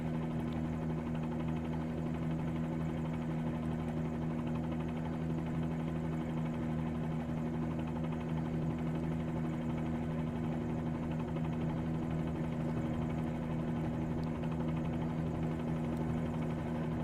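A Bell 47G helicopter in Microsoft Flight Simulator hovers and eases forward, its piston engine and rotor making a loud, constant droning hum with steady tonal throb throughout.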